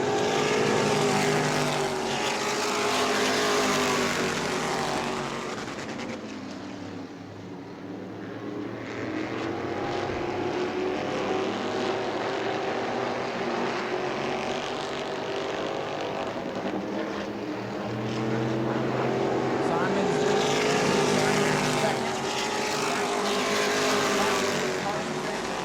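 Race cars circling New Smyrna Speedway in a close battle for the lead, engines roaring loudly as packs pass by and fade, with a commentator talking over the racing noise.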